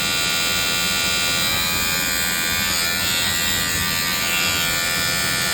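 A small Shinon S 1913 electric clipper runs in turbo mode with a loud, steady, close buzzing whir that holds without a break, and no voice over it.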